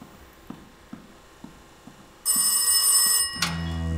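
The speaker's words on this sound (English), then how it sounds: "The blasted phone." A telephone in the horror game Rise of Insanity rings loudly with a harsh, bright bell burst after a series of soft, evenly spaced footstep-like knocks, then a second short ring starts.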